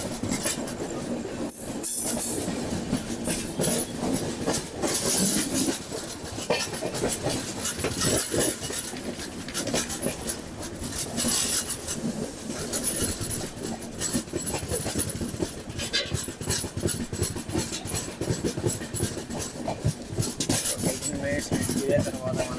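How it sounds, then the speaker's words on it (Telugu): Navjeevan Superfast Express, the 12656 Vijayawada to Ahmedabad service, rolls along running late, filling the cabin with a steady loud rumble, rasping rail friction and faint clickety-clack throughout. "మన ట్రైన్ అయితే ఇప్పుడు 18 లేట్ నడుస్తుంది."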